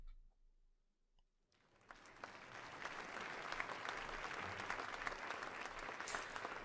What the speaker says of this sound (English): applause finally breaks out across the audience that gradually swells with enthusiasm